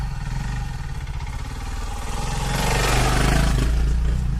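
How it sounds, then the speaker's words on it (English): An all-out dirt bike motorcycle approaching on an off-road trail, its engine droning and then swelling louder as it nears, with no talk. "here comes a motorcycle"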